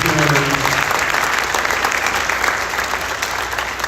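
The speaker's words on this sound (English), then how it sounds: "Give a big round of applause to Mr. Anthony." A large audience at a high school freshman orientation gives loud, continuous applause for an assistant principal, a thick roar of clapping that begins as a voice trails off and stays strong to the end.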